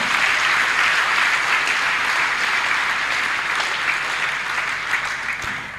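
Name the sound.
congregation applauding in church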